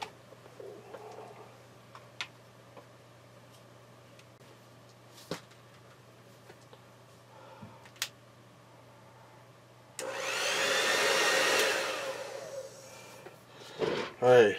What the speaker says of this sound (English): I'm going to get a hair dryer here